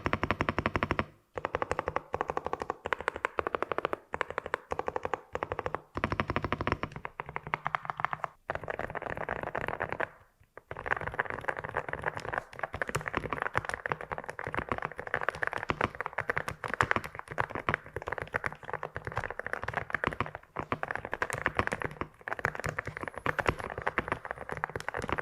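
Continuous, rapid typing on a low-noise mechanical keyboard, an Freeflow Arcon AK45/AK55 office model, gives dense close-up clicks and taps with a brief pause near the middle.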